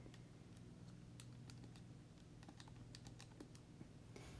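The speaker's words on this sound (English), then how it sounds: "I gotta type it into my calculator" Fingers tapping numbers into a calculator keypad, a quick, irregular run of light clicks heard close and quiet against a faint background hum.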